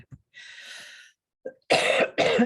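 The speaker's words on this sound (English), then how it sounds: "I'm sorry about the coughing" Several harsh coughs: a short one, a longer raspy hack, then two loud close bursts in quick succession, with no talking.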